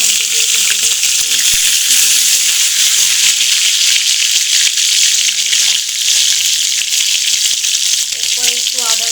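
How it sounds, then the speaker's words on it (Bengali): Chopped banana flower fries in a pan while a spatula stirs and cuts through it, giving a steady close sizzle with intermittent scraping and tapping strokes. "একটু খুন্তি দিয়ে কেটে দিচ্ছি।"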